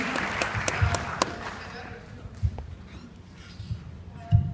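A screening audience at a Miami podcast documentary Q&A claps for a departing participant; the applause is strongest at first and fades within a couple of seconds, leaving a voice talking over room noise.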